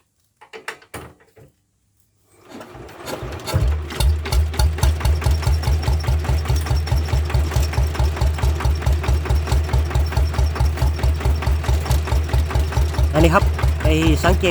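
A walking tractor engine with a charging generator starts after a few short cranking bursts, then settles into a loud, rhythmic single-cylinder thumping idle that runs steadily to the end, close to the listener.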